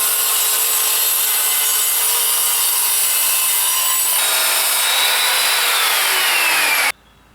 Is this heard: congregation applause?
no